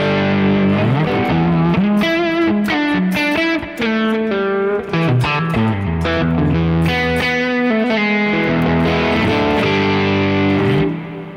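An electric guitar plays chords and melodic lines through an amp set to an edge-of-breakup tone, slightly gritty and warm, loud and continuous with no talking.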